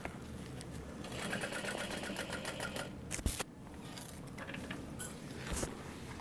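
Sewing machine stitching a tote bag, a fast steady mechanical chatter of the needle running for several seconds, close and moderately quiet, with a brief clunk partway through.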